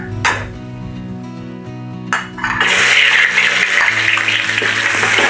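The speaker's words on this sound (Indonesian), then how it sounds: "Kita tumis dulu bawang merah," A clink of utensils, then a loud sizzle as sliced shallots and garlic hit hot oil in a pan and keep frying steadily.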